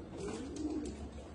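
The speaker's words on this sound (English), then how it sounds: "Today we will watch two different kinds of tumbler pigeon." Crested, colourful fancy tumbler pigeons give soft, low, rolling coos at close range, repeating over a quiet background.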